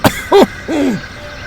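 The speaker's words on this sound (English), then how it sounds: "Henry coughed feebly." Henry the engine coughs feebly: a short sharp burst followed by two wheezy, hooting coughs, close and fairly loud, with nothing else heard.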